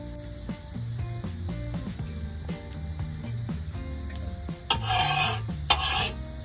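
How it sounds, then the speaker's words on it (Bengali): A hot iron griddle being coated with oil, scraping and rubbing strokes repeating across the surface, then a brief louder sizzle near the end. "সব দিকে চাটুর গায়ে এরকম করে মাখিয়ে নেব।"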